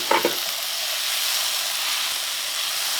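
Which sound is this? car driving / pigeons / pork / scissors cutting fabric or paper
pork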